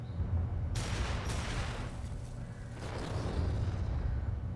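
City cannons firing in the video game Wild Hearts, two or three loud booming blasts with long rumbling tails over a constant low roar of battle, with no talk.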